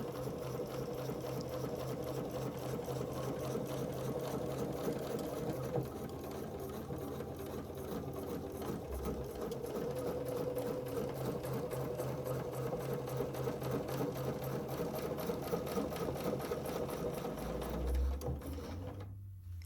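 A sewing machine fitted with a ruler foot stitches a quilted cozy, its steady rapid mechanical whir running continuously and close with only brief soft thumps near the end.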